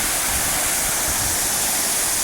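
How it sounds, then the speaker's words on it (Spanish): Waterfall at Cascada de La Concepción in Aculco, State of Mexico, roaring as a steady, loud broadband rush of falling water that fills the whole stretch without any voices. "La cascada de Aculco, Estado de México."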